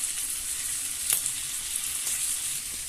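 Spices and green peas fry with red chilli powder and a little sugar in a pan, giving a steady close sizzle with a brief stir clink partway through and no voices.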